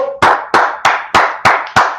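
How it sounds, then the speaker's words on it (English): Six loud, evenly spaced claps, like a single person or tight group clapping in unison, close and sharp with brief decays; one sustained voice tone precedes the first clap at a men's religious class. "Let's clap it up for the Lord"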